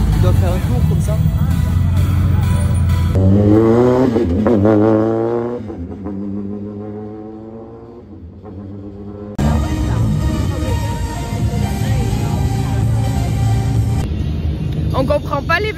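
Rally cars passing slowly along a street in Lloret de Mar, engines rumbling and rising in pitch as they go by, with a quieter gap midway before the next car arrives, under steady crowd noise and voices.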